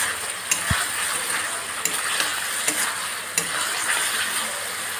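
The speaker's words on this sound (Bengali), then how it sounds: "এখন মশলাটাকে ভালো করে কষবো" Spice paste for a fish and potato curry fries in a pan with a steady, bright sizzle, and a spoon stirs through it with occasional soft scrapes and taps.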